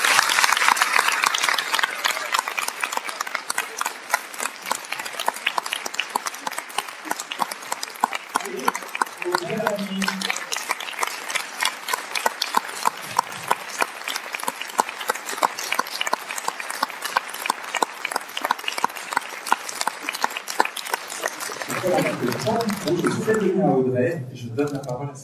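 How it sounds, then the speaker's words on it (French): Sustained audience applause fills a Paris film premiere welcoming the actress, dense steady clapping that runs for most of the stretch before a voice begins speaking near the end. "J'ai demandé beaucoup d'applaudissements pour accueillir Sandrine Kiberlin."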